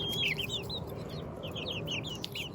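A Rhode Island Red hen named Henrietta on a half-acre homestead, heard as a series of soft, close bird calls that repeat through the clip over a steady low outdoor rumble.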